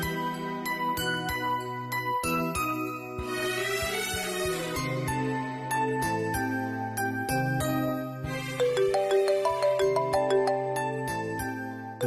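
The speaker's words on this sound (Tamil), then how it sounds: "ஐயோ, ராசாத்தி வேற ஃபோன் பண்றாளே." A melodic phone ringtone plays for an incoming call, a bright, repeating electronic tune of chiming notes that continues steadily for several seconds, close and alone without talking.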